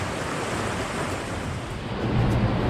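A small waterfall on a river in the Scottish Highlands rushes in a loud, steady wash of white noise, heard up close with no talking.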